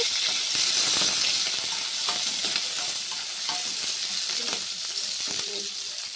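Curry leaves hit hot oil in a pan for ridge gourd chutney, crackling and sizzling steadily with light stirring clicks, close up and with no voices.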